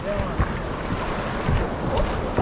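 Rough sea waves slosh around a small fishing boat during net fishing for jack fish, with steady close wind rumble and irregular splashes throughout.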